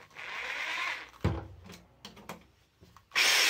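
A repaired 26 mm rotary hammer drill runs on test in two loud, whirring bursts, one about a second long and a shorter one at the end, separated by quiet clicks and handling knocks.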